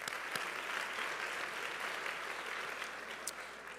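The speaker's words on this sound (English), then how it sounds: "A round of applause for them." Steady applause from an audience at a Panther awards ceremony, a dense, even wash of clapping that holds for several seconds at moderate, somewhat distant volume.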